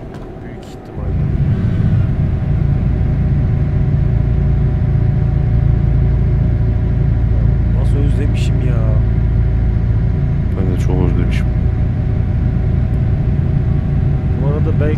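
A Scania Topline truck in Euro Truck Simulator 2, loaded with water pipes, gives a loud, steady low engine rumble that swells after a second and holds throughout, with occasional faint higher tones above it.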